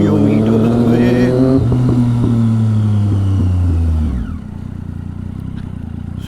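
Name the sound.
motorcycle engine arriving home to park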